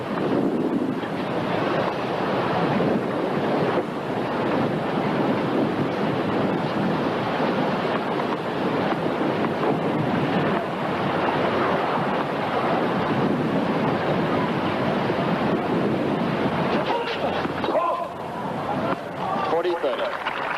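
Strong gusting wind buffets the microphone at an outdoor tennis match between Boris Becker and John McEnroe at the 1986 Volvo International, a steady loud roar throughout with commentary over it.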